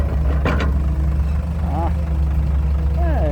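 A Hitachi ZX200-1 excavator's Isuzu diesel engine idles with a steady low rumble throughout, while a voice speaks briefly over it.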